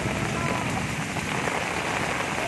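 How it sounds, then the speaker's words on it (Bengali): Heavy rain pours down steadily during the first Kalbaisakhi storm of 2024, a dense, loud, unbroken hiss close by with no voices heard. "প্রচুর বৃষ্টি হয়েছে, খুব মজা এসেছে।"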